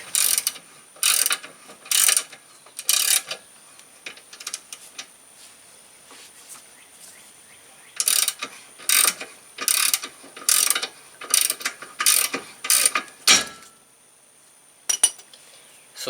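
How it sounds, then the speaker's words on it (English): A ratchet wrench working a bolt out of a sway bar end link on a Volkswagen front suspension, rapid clicking bursts in repeated spells separated by quiet pauses, close and crisp. "take one of these bolts out of the sway bar end link"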